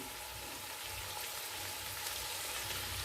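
Spices frying in hot oil in a pan while cooking a Bengali vegetable curry, a steady soft sizzle with faint crackle running evenly throughout, no talking over it.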